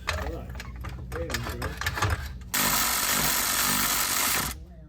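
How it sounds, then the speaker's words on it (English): A power tool zips off the transmission mount nuts underneath a BMW E36 318ti during an M52 engine swap. A voice is heard first, then a loud, continuous whirring burst of about two seconds stops abruptly. "so I can just zip off the nuts on the underside"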